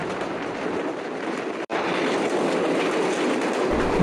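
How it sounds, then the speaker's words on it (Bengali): The Intercity Rupsha Express runs at speed between Khulna and Natore, its carriage rattling with a steady, dense clatter of wheels on track, broken by a brief dropout near the middle. "আমাদের ট্রেনটি ছুটে চলেছে পাগলা ঘোড়ার মতো হর্স পাওয়ারে টকবক টকবক করে সামনের দিকে এগোচ্ছে"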